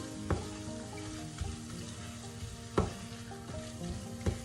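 Tomato paste sautés in a pan for a green lentil stew, a soft, steady sizzle with a few sharp stirring clacks, close but fairly quiet, no talk.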